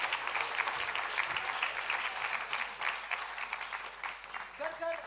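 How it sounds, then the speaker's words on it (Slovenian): An indoor audience at a closing event claps steadily for two volunteers, a dense sustained applause that stays even throughout, with a brief voice coming in at the very end. "Prosim, en aplavz za naši prvi prostovoljki."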